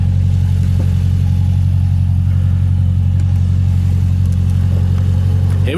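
A Ferrari supercar's engine hums close by in a deep, steady, loud drone, holding an even note with little change in pitch and no voices.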